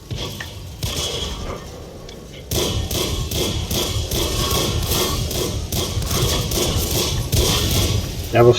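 Tank cannon shots ring out one after another in World of Tanks, firing a Tier 9 Orc tank: sharp repeated bangs and thuds in steady succession, loud and close over a busy game background.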